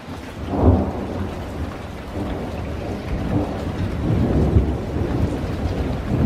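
Steady, heavy rain pours down with a low rumble of thunder rolling underneath, with no voices present.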